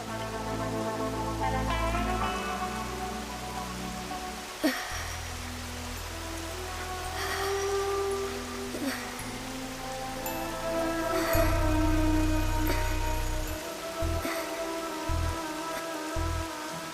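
Steady rain falls throughout, a continuous close wash of drops on surfaces with no voices, set against a shifting low background tone.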